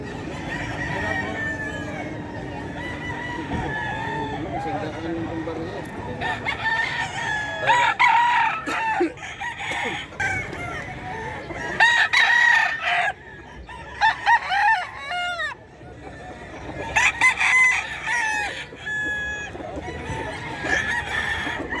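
Roosters and hens for sale at the Bocaue pet market, with several loud cock-a-doodle-doo crows repeating over steady clucking and a busy crowd murmur, some birds near and others farther off.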